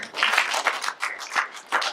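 A small conference audience claps steadily, with quick irregular hand claps that rise and dip in short bursts, fairly close.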